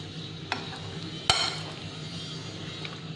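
Chicken korma ingredients being stirred and mixed in a pot, with a few faint clinks and one sharp knock of a utensil against metal over a low, steady background.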